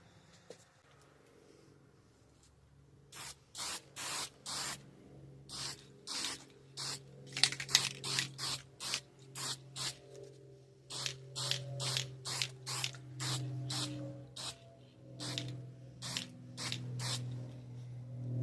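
Repeated short bursts of hissing spray from a spray paint can, close by, painting a 3D-printed sword, in uneven rhythmic pulses with brief pauses between them.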